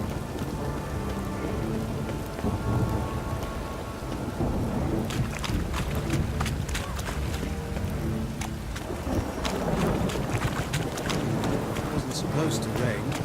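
A thunderstorm in The Witcher 3: Wild Hunt brings steady, dense rain with cracking rolls of thunder. Voices talk over the downpour throughout.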